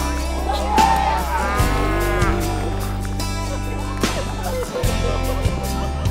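Cattle mooing as rescued calves are let out to join the cows, a long loud low bellow rising and falling over steady farm background, with a voice speaking briefly near the start.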